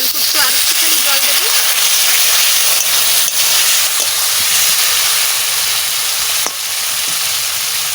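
Water splashes into a hot pan of small round new potatoes for Bengali dum aloo, setting off a loud, steady steam hiss and sizzle that fills the whole stretch, with a few stirring clinks.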